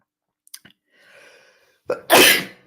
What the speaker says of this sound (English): I don't know why I keep sneezing on streams at the minute